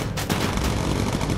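Gunfire aimed at a bomber in the game Bomber Crew: a dense, continuous rattle of rapid shots and booms that stays loud throughout, with no break in the barrage.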